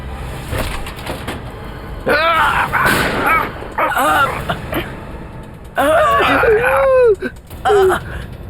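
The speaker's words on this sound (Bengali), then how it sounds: "গুলির আওয়াজ শুনে কেউ চলে এলে কি হবে?" Gunshots in a TV crime drama series, several loud sharp bangs in bursts, mixed with dramatic music and voices.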